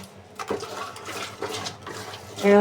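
Fish being washed with water, splashing and running water in uneven bursts close by, with a brief louder gush at the end.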